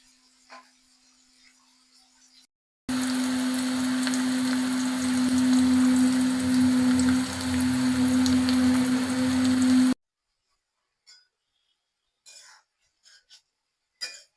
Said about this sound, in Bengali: লাল করে ভেজে নেব পেঁয়াজ গুলো